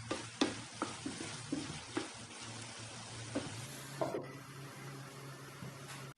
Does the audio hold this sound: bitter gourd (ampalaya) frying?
yes